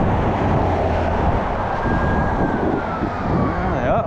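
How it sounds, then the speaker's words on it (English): A fire truck siren wails faintly in the distance, a thin rising-and-falling tone over heavy street traffic rumble on a city walk, with a brief horn-like chirp near the end. "Oh boy, fire truck."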